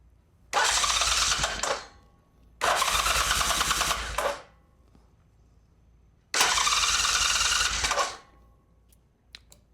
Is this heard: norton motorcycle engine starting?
yes